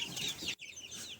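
Chickens clucking inside a backyard coop at a home, a steady chatter of soft clucks that dips to near quiet for a moment before resuming, fairly close and moderately loud.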